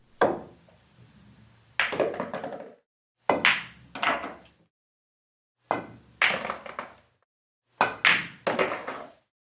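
A pool cue ball strikes billiard balls near a pocket's jaws in a game situation, heard as several sharp clicking knocks in spaced pairs, close and clear, with quiet gaps between.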